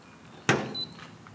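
The door of a Masterbuilt Gravity XT charcoal smoker shuts with a single sharp metallic thump, followed by a brief faint rattle in an otherwise quiet outdoor setting.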